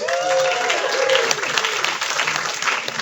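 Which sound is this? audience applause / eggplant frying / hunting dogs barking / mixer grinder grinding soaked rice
audience applause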